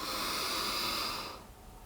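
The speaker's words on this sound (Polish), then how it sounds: "będzie wdech przez nos, taki głęboki" A deep breath drawn in through the nose during a Kundalini yoga breathing exercise, one long steady airy inhale lasting over a second, close and fairly quiet, then tapering off.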